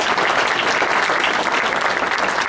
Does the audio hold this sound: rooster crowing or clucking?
no